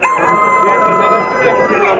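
Roosters crow loudly at a busy poultry market in Kokand, a long drawn-out crow ringing out close by over clucking fowl and a hubbub of background chatter.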